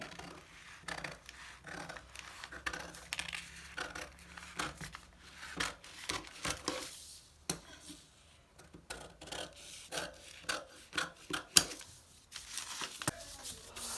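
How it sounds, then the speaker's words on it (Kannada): Scissors cut through blouse fabric to shape the back piece, producing quiet, close snips mixed with rustling and crinkling cloth in uneven bursts with short pauses. "ಇವಾಗ ಕಟ್ ಮಾಡ್ತಾ ಇದ್ದೀನಿ, ಬ್ಯಾಕ್ ಪಾರ್ಟೇ ಕಟ್ ಮಾಡ್ತಾ ಇದ್ದೀನಿ"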